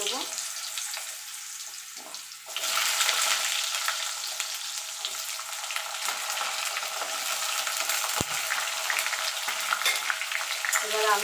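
Diced potatoes frying in a pan after a spice tempering: a moderate sizzle jumps to a louder, dense crackling hiss when they go in, then continues steadily with stirring.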